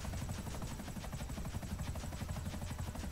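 A smoking helicopter in GTA V thrums close and loud, its rotor beating a fast steady chop with a whining buzz above it throughout.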